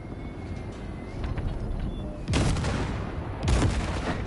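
Spaceship guns blast wrecks in a space video game, with a continuous roar of firing and two louder, dense bursts of rapid shots standing out near the end over a constant low rumble.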